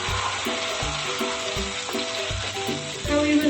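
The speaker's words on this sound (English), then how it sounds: "now we will add the onions and saute them really well." Chopped onions sizzle in hot oil in a pot for homemade beans daal, a constant bright frying hiss broken by periodic low scraping knocks of a spoon stirring against the pot.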